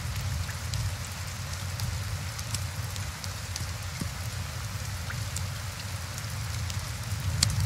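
Steady rain falls in a tavern-management video game, a continuous soft hiss with scattered droplet ticks, fairly quiet and unbroken throughout with no voices.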